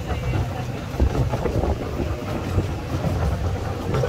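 An open amusement park train ride at Bay Beach in Green Bay rumbles along with low clattering and rolling noise, moderately loud, while people talk faintly over it.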